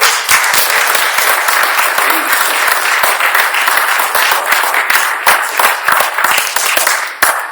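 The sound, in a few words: applause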